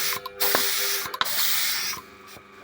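Spray paint hisses from an aerosol can in close, sharp bursts, with a few short pauses between sprays.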